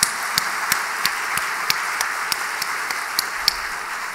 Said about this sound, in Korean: 우리 장로님 다시 한번 우리 크게 박수 한번 하십시오.